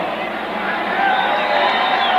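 A large stadium crowd at a Rams vs Saints football game roaring and cheering in a steady, dense wash of voices that swells slightly louder toward the end.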